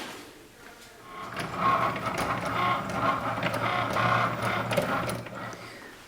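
A Cricut Maker cutting machine whirs and buzzes steadily while cutting a T-shirt design, its motor and moving carriage sounding close and continuous for several seconds.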